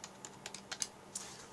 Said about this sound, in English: I'm just going to write phaser on there.